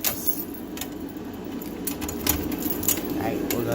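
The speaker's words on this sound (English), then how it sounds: "Let me grab my keys here for that" A set of keys jangles and clinks in short bright bursts while a fire alarm system is being reset, close to the microphone over a steady background hum, with faint talk underneath.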